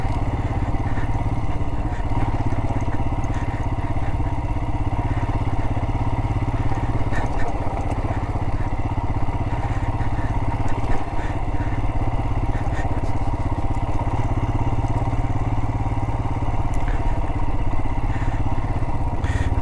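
A motorcycle churns through thick sand on a rough canyon jeep trail, its engine droning loud and constant with rattling and wind rush the whole way, no pauses.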